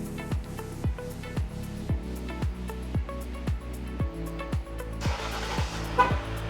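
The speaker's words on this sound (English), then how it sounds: "Vehicle started and running." A 2019-2023 Dodge RAM diesel pickup on remote start: a steady low idle hum runs throughout, overlaid by a regular series of about a dozen sharp horn-like toots spaced roughly half a second apart, with a brief noisy rush near the end.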